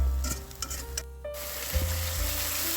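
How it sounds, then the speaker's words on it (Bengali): Dried red chillies, bay leaves and whole cumin hit hot oil for a tempering in a Bengali muri ghonto fish-head dish, giving a steady close sizzle with a few brief stirring knocks and no voices. "শুকনো মরিচ তেজপাতা আর গোটা জিরে দিয়ে সুন্দর একটা ফুরন দিচ্ছি"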